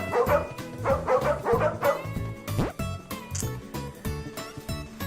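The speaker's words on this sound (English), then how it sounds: "And bark." Cartoonish dog barks and yips from a cozy indie video game, a quick run of several bright barks near the start over a bouncy game music loop, followed by the music alone.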